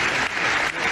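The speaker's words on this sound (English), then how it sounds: "so no huge applause, but applause nevertheless" Applause at an award ceremony, heard as a recording played back: one brief, loud, dense burst of clapping with a slight dip in the middle.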